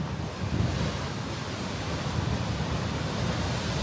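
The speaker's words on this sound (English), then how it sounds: "you can see the waves crashing through the caves here" Ocean waves surging through sea caves on the Big Sur coast, a continuous loud broadband roar of surf with gusty wind buffeting, steady throughout with slight swells.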